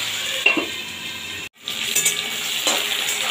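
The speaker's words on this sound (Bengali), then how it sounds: "পেঁয়াজটা দিয়ে এই আলুর সাথে একটু ভাজা ভাজা করে নেব" Onions and potatoes fry in a pan with a bright, continuous sizzle, broken by a brief moment of quiet and the clink of stirring, with no voices.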